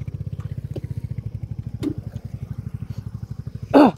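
Royal Enfield Hunter 350 motorcycle engine thumping steadily in a low, rapid pulse while being ridden on a bumpy, winding road, with a short rustle at the end.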